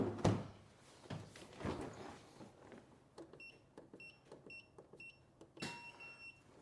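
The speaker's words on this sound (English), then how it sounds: "Solenoid just clicked." The solenoid on a Club Car Precedent golf cart in a workshop. It gives several sharp, close clicks in quick succession, each with a faint ringing tail, after some handling noises.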